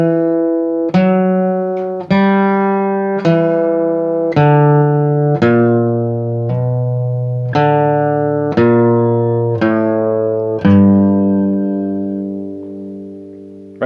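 A bluegrass guitar lick built on a half-step move, picked as a slow run of clear, ringing single notes in steady rhythm, each attack sharp and sustaining into the next, close and alone with no talking.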